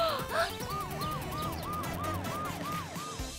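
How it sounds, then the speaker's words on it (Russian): An ambulance siren wails in a fast, steady up-and-down cycle, repeating about seven times at an even rhythm, fairly close and clear over a low traffic rumble, with no voices. "Скорая забрала пострадавшую Сьюзи."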